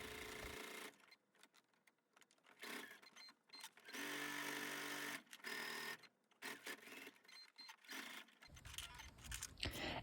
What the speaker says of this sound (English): Now I'm going to sew down all 4 corners